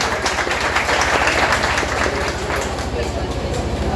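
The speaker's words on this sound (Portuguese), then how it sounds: "Vamos dar uma salva de palmas." Crowd at a university community cultural night applauds, a broad steady wash of clapping that stays loud throughout, with chatter and a low rhythmic thumping underneath.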